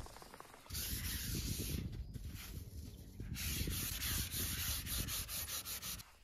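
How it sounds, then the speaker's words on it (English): Plywood floor of a micro camper being sanded smooth, a close, loud scratchy rubbing hiss in repeated strokes, with a faint high whine above it. "what I'm going to do first is sand it all down, get it really nice and smooth"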